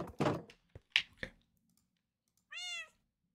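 A single short, clear cat meow in a video game sounds once after a few soft clicks and thumps, then quiet.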